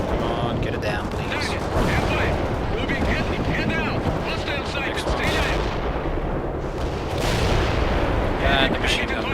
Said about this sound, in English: And the machine gun missed